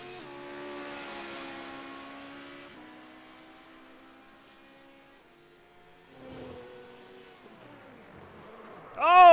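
A number 45 GT3 race car on a sports car circuit, engine note rising and falling steadily through gear changes, fairly distant, then a louder rush of sound at the end.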